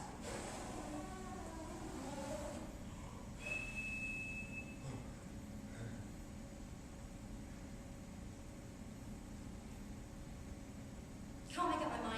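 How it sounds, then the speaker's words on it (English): Whistle of a kettle blown by mouth in a kitchen, a thin, steady tone held for about a second amid faint background hiss, then fading before a brief rustle near the end. "Bear obliges by blowing the kettle's whistle till his cheeks are ready to burst"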